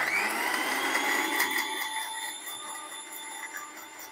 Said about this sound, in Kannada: ಇದನ್ನ ಇವಾಗ ಮಿಕ್ಸಿಗೆ ಹಾಕೊಂಡ್ಬಿಡೋಣ